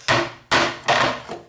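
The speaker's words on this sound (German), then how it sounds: "So, jetzt habe ich hier ein großes Holzbrett. Und einen Hammer." A hammer strikes a large wooden board three times in slow succession, each blow a loud, close, hollow thud that rings briefly before fading, with no talk.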